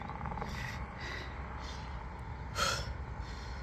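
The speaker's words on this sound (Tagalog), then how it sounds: "Hingal is real" Heavy panting from a sweaty runner after exertion, with a few loud breaths in a steady rhythm over constant traffic noise outdoors and one sharper gasp near the end.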